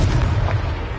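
Fire-blast spell explosion from the Hogwarts Legacy video game, a loud, dense, low-heavy boom that rumbles throughout without a clear attack, with no talk over it.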